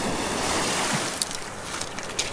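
Lake Superior surf washes steadily onto a rocky shore west of the Two-Hearted River, a broad continuous rush with wind buffeting the microphone and a few small splashes.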